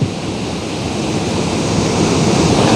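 A waterfall roars close by as a boat visitor stands near it getting soaked, a loud, dense, steady rush of falling water with no voices.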